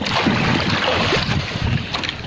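Steady roar of strong wind buffeting the microphone over rough, sloshing choppy sea, continuous and loud with no voices.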